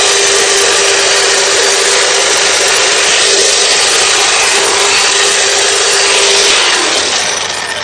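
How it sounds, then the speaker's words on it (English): A hedge trimmer runs steadily over flats of impatiens plants, shearing them down in a continuous loud, dense buzz that holds nearly unchanged for the whole stretch before easing slightly at the end. "we just take a hedge trimmer and just go right over the flats and just cut them right down"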